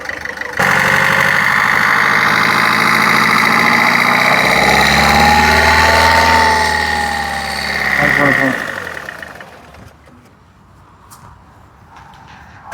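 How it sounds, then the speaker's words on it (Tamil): Diesel car engine idling close by with a steady low rumble and a light rev that rises and settles, then the sound drops away near the end. "டீசல் வண்டி தான் இதுவும் இதுவும் வந்து நல்லாயிருக்கும் லைட்டாக ரேஸ் பண்ணி போய் ரேஸ் பண்ணி போய் ரேஸ் பண்ணி"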